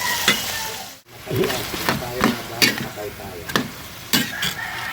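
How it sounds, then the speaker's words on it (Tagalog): Tomatoes softening in a pot for a munggo (mung bean) soup with pork hock, a steady frying sizzle broken by scraping stirs of a spoon against the pot, with one brief dropout midway. "Medyo lalantahin lang natin ang kamatis bago natin ilagay yung pata."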